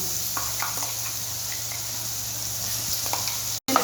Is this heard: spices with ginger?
yes